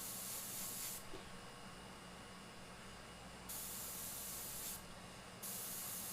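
Airbrush spraying paint over a stencil on a hooked tribal skull design, steady close hissing in bursts that stop and restart, with a softer air hiss between passes.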